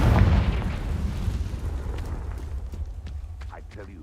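Confringo fire spell explosion in Hogwarts Legacy, a deep booming blast that opens loud and then rumbles and fades over several seconds, with a few faint crackles near the end.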